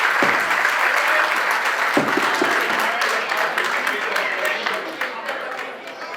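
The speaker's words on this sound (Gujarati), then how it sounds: "તાળી." A crowd at a family get-together and felicitation ceremony claps in sustained applause, dense and loud at first and slowly thinning toward the end, with voices audible beneath.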